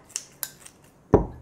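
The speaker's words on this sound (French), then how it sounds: "Et ensuite, tu prends une paire de ciseaux." Scissors snip fresh coriander in a home kitchen, two light quick clicks followed by one firmer close cut.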